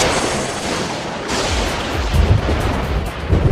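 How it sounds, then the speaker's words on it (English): Thunder during a thunderstorm, a loud, continuous broadband rumble lasting several seconds with deeper surges building toward the end, no voices. "We've all seen lightning during a thunderstorm"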